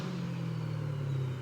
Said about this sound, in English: This is the IPE F1 exhaust system.